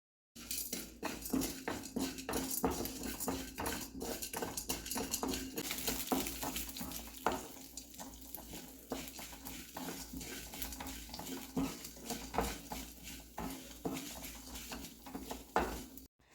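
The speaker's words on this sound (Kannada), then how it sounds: "ಈ ಎಲ್ಲ ಡ್ರೈ ಸ್ಪೈಸಸ್ನ ಹಾಕ್ಕೊಂಡು ಚೆನ್ನಾಗಿ ಫ್ರೈ ಮಾಡ್ಕೊಳ್ತಾ ಇದ್ದೀನಿ" Dry spices fry in oil in a pan for amla sambar, giving a close, steady crackle and sizzle broken by frequent scraping stirs and light clinks of a utensil against the pan.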